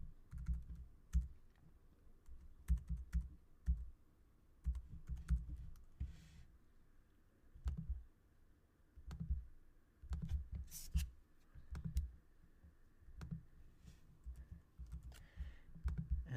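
Steady typing on a computer keyboard while a card number is entered, quick runs of soft key clicks with brief pauses, close and moderately quiet.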